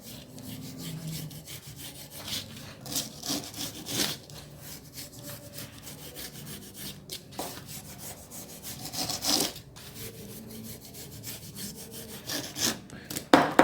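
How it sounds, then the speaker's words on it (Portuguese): A spatula scrapes and trims the edges of a homemade vase made from recycled waste, giving a steady run of close rasping, sawing-like strokes with a few louder scrapes and no talk. "com uma espátula eu vou alinhando o vaso, vou cortando as bordas aqui"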